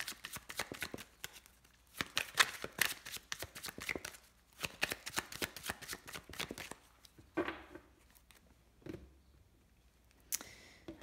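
A deck of tarot cards is shuffled and cut by hand, quiet rapid flurries of riffling clicks in bursts, then a few slower single card snaps.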